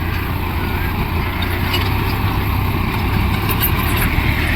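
An Arjun 4x4 CRDI tractor with water-filled tyres works a stony field with a plough, its diesel engine droning steadily and loudly throughout with a constant low rumble and no pauses.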